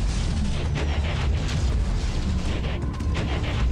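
Gunfire and explosions in a Transformers mobile battle game set in a cement factory, a dense continuous roar of booms and bursts filling the whole stretch.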